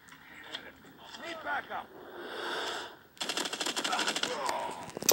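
Gunfire in a Call of Duty match, first scattered shots under excited talk from players, then a dense, loud stretch of rapid automatic fire that continues to the end.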